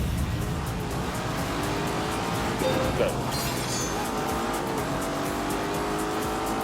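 Race cars launch at the start of a race in The Grand Tour video game, engines roaring with tire squeal as they accelerate away, a voice briefly calling out at the start.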